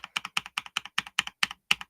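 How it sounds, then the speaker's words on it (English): Rapid, heavy typing on a mechanical computer keyboard, with about eleven sharp, evenly spaced key clacks in under two seconds, close and alone with no talk. "You probably hear a lot more of my typing."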